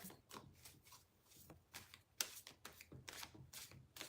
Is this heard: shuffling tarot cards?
yes